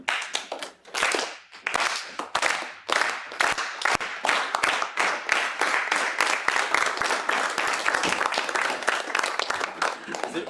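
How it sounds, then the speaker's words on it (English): Student senate members clapping together in a room, starting as scattered slow claps that build into quicker, denser applause, with some voices mixed in. "Start a close slow clap"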